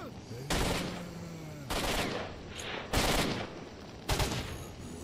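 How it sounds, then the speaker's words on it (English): Gunfire from a zombie stalker in the S.T.A.L.K.E.R. video game: four loud, broad bursts of shots, spaced about a second apart, with a steady background hum between them. "with a groan, they open fire"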